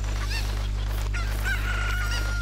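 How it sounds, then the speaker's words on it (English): A chicken in The Legend of Zelda: Ocarina of Time Master Quest gives a couple of clucks and a crowing cry over a steady low game hum, up close and clear. "I got a chicken."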